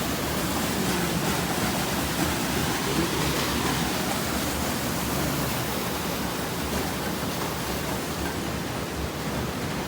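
Water rushing steadily near a hillside temple at Sundarijal, a dense, continuous broadband roar like a nearby waterfall or stream, loud and unbroken with no voices.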